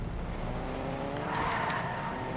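A Fortnite car engine drones steadily while driving, with a rising tire squeal partway through, loud and close.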